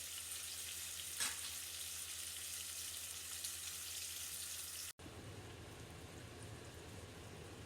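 Three large onions fry with a pinch of salt in a pan for gondhoraj chicken, giving a loud, even sizzle with one brief cut partway through.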